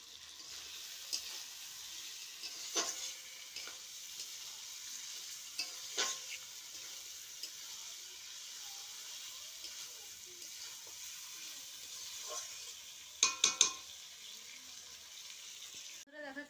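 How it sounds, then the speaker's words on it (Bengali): Spice paste sautés in a pan while being stirred, with a soft, faint sizzle under a few sharp scraping clinks of the spoon against the pan and a brief clatter toward the end. "এবার আমি কষিয়ে নিচ্ছি ভালো করে।"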